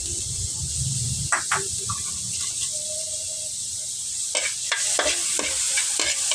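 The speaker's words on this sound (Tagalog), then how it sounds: "Unang gisahin yung bawang para maging mabango." Garlic sautéing in a pan for a Filipino pork and chicken afritada, a steady sizzle with stirring scrapes and a few sharper clatters of the utensil against the pan near the end.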